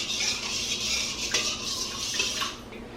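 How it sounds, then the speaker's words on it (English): A yeast, sugar and olive oil mixture stirred in a bowl, giving a steady wet swishing with light clinks of a utensil against the sides, close and fairly quiet. "Stir it around"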